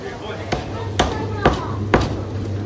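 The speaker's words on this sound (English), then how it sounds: "now he's chopping the meat on this cutting board." A butcher cleaves meat on a cutting board with four sharp, evenly spaced chops about half a second apart, close and loud, under faint background voices.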